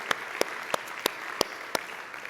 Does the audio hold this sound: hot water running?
no